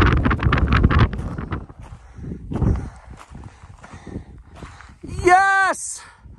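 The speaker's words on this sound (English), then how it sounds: "I don't care how windy it gets." Gusty wind buffets the microphone in low rumbling bursts on Square Top mountain peak, at 13,794 feet, with a voice talking and a brief whoop near the end.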